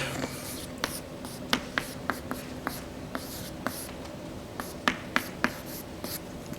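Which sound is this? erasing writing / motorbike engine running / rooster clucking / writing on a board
writing on a board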